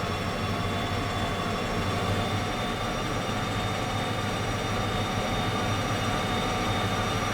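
A heavy-haul train in Derail Valley drones steadily, a constant low rumble with a faint high whine held unchanged from start to end, with no voices.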